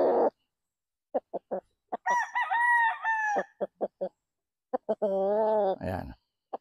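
A six-month-old straight-comb Roundhead cockerel crows loudly and nearby twice, each crow a long, wavering call, with short clucks and brief bursts of a voice in between.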